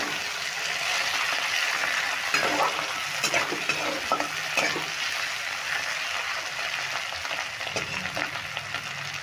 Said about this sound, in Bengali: এখন আমি কেটে রাখা টমেটো দিয়ে দিচ্ছি, একটা ছোটো সাইজের টমেটো কেটে নিয়েছিলাম,